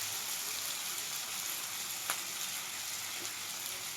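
Chicken momo stir-frying in a pan with sauces, a steady close sizzle hissing throughout with a single sharp clink of a utensil midway, no voices.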